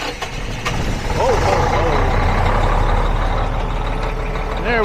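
A diesel engine on an RTG container crane cranks and catches, rumbling steadily close by, with a brief exclamation from a man near the start.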